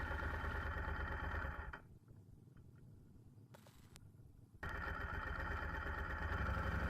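Motorcycle engine running at a fuel stop, a steady mid-pitched idle that drops away briefly in the middle, then returns loud and close with a rough, clattering thrum.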